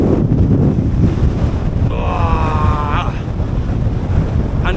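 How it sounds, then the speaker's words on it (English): Strong wind on an exposed mountain summit in the Lake District, roaring and buffeting hard against the microphone in a loud, rumbling, continuous blast, with a faint whistling tone partway through. "I knew the wind was going to be bad"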